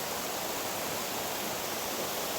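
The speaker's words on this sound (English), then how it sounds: "this is actually the better one, because you have a sequence of flows and rapids" A waterfall of ignimbrite rock pouring through a sequence of flows and rapids, a dense, loud and steady rushing roar with no breaks, close by.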